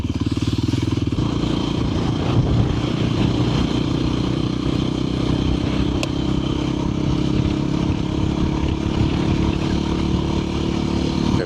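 A motorcycle engine drones steadily up close, sounding a little sluggish at about 1900 m altitude, with rattling and clattering over a rough mountain dirt road in Morocco and no speech.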